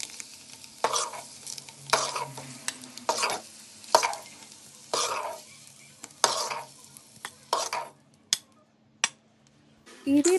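Chopped onions frying in a pan for a village-style egg dish, with bursts of sizzling and repeated stirring scrapes recurring every second or so, close and moderately loud, with no talk.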